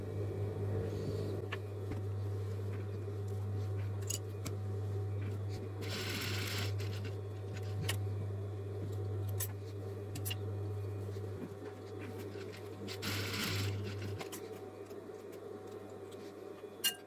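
A sewing machine stitches a bra strap with a steady low motor hum and fine rapid ticking, broken by two short bursts of louder whirring; a brief click comes near the end.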